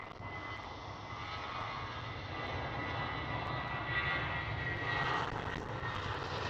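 A British Airways airliner at Schiphol Airport in Amsterdam, a steady distant engine roar that swells gradually louder over several seconds, with no voices.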